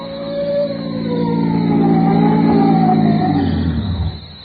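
A wailing police car siren from an old-time radio comedy broadcast, rising and holding steady at full loudness for about four seconds, with harmonic layers sweeping upward and then trailing off, alone without talk.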